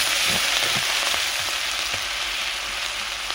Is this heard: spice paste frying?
yes